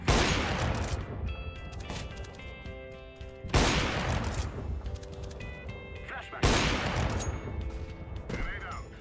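AWP sniper rifle shots in a CS:GO match ring out as three loud, sharp cracks spaced about three seconds apart, each followed by a decaying echo, with other game gunfire and noise in between.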